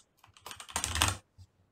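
Keys on a computer keyboard are tapped in a quick, brief flurry of close clicks, building to a dense patter and then trailing off into a couple of isolated presses.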